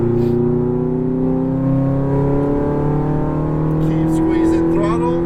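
Ferrari F430 accelerating hard on a race track, its engine a loud sustained rising drone heard from inside the car, with an instructor talking over it.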